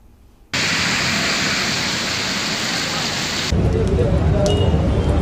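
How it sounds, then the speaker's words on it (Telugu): Heavy rain with thunder pours down in Hyderabad, a loud, dense, continuous roar of falling water that swells even louder partway through, with no talk. "పలు ప్రాంతాల్లో ఉరుములు మెరుపులతో భారీ వర్షం కురిసింది."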